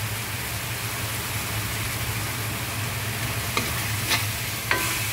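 Alamang (shrimp paste) stir-fried in a pan with a little added oil, giving a steady, fairly faint sizzle and hiss throughout, with a few brief scraping clicks of the spatula near the end.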